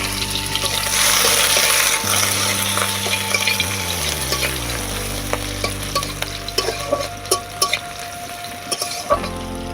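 Chopped onion hitting hot mustard oil in a wok after dried chilli, a loud sizzling burst that settles into steady frying, with stirring scrapes and clatters near the end.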